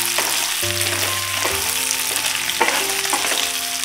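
Chicken sizzling steadily in a pan for butter chicken, a dense continuous frying hiss with occasional stirring scrapes, close and loud with no voices.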